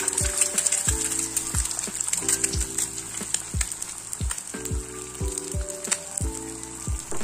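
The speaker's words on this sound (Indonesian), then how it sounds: "di sini kita goreng dulu telurnya seperti goreng telur mata sapi aja ya guys" An egg fries sunny-side up in hot oil with a steady, fairly loud sizzle and crackle running throughout, broken by a few sharp pops and clicks near the pan, with no talking.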